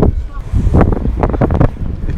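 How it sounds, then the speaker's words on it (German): Outdoor wind buffets the microphone with a continuous loud, low rumble that swells and fades in gusts, while a voice talks over it. "Jetzt ist es ein bisschen windig."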